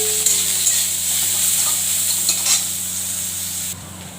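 Onions and green and dried chillies fry in a pan as they are stirred, a steady close sizzle with soft scraping strokes of the spoon that eases off slightly toward the end.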